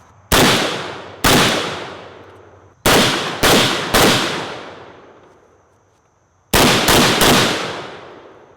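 An M92 PAP firearm fires eight loud, close shots in irregular clusters of one to three, each sharp crack ringing out into a long echoing decay.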